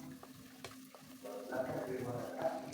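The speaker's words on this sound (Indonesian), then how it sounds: "Bihun jagung yang sudah kita marinasi dengan bumbu, kita aduk rata." Corn vermicelli marinated with seasoning being stirred in a pan with wilted pak choy and egg, a soft close sizzle with faint scrapes and clicks of the utensil that grows a little louder partway through.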